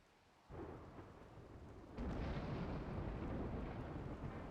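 A rainstorm hisses steadily in the RimWorld colony game, with a deep rumble of thunder rolling in partway through and swelling the downpour.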